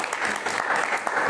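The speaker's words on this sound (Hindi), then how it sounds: "इसमें ताली बजाना चाहिए" Dense applause from a group of children clapping together at Anand Dham in Vrindavan, a steady close patter of many hands lasting about a second.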